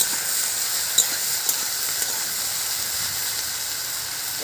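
Taro stolons frying in a pan with garlic, salt and turmeric, giving a steady close sizzle and hiss with a few faint stirring clicks.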